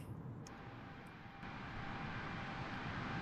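Engines of a Delta A330-900neo airliner in Microsoft Flight Simulator, a steady broadband roar that grows slightly louder partway through, with no voices.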